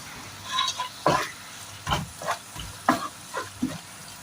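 Biryani masala with mint leaves is stirred in a pan. A spoon scrapes in a few separate, uneven strokes over a soft sizzle.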